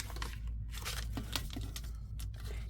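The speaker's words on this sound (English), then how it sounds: "you need to fold this up here" Paper being folded and creased for a shabby chic vintage pocket envelope, with repeated crinkling, rustling and tearing-like scrapes close up over a steady low hum, no voices.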